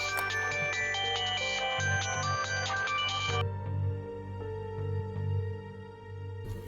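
A phone rings in a quiet domestic room, a steady electronic ringtone tune with many bright tonal notes that cuts off partway, leaving low background hum and faint sounds with no talk.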